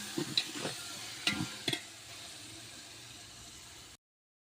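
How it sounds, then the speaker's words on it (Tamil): Vegetable biryani masala with mint being stirred in a large pot, a soft sizzle with a few scraping spoon strokes near the start, then a quiet hiss before the sound cuts off. "இப்போ நல்லா கிளறி விட்டுறலாம்"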